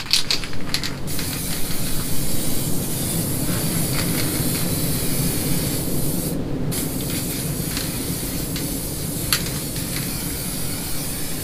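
A spray paint can hisses steadily and continuously, close by, onto a roughened solar hot water panel, with a brief pause partway through before the spraying resumes.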